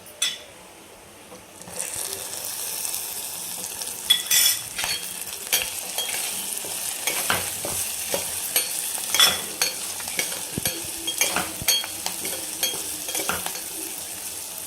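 Cut green chillies go into hot oil in a pan, loud sizzling and frying that starts suddenly and carries on, broken by repeated metallic scrapes and clinks of a spoon stirring against the pan, with no voice.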